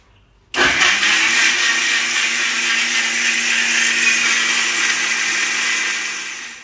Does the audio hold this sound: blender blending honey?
yes